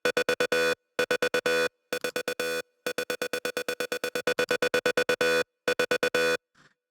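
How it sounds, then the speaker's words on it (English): Synth lead with heavy RC20-style distortion and wobbling tape wow-and-flutter, playing bursts of rapid stuttering staccato notes separated by short gaps, loud and bright, with no voices. "we're going to add in some RC20 here, which is basically, again, a lot more distortion and some magnetic wow and flutter tape emulation"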